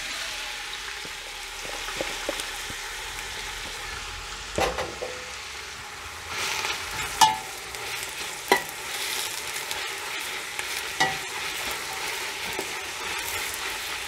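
Chopped onions sizzling and frying in hot oil in a pan for Hungarian lecsó, a steady close hiss with occasional stirring scrapes and clicks, no talking.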